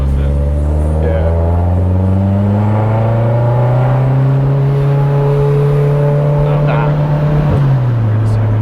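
A built Mitsubishi Evo X with a BorgWarner turbo drives on city streets, its loud engine drone rising steadily in pitch as it accelerates, then dropping near the end, with people talking inside the car.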